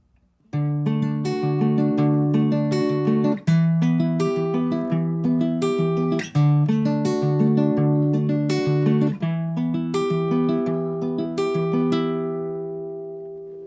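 An acoustic guitar strums a slow chord progression from a song, each chord ringing out clearly before the next change, ending on a sustained fading chord.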